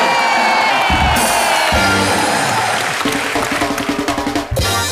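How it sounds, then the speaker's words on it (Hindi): Studio audience at the Comedy Nights With Kapil comedy show breaks into loud, sustained applause mixed with cheering and whoops, a dense crowd roar that swells and pulses throughout. "एक बार जोरदार तालियां शाहिद कपूर के लिए"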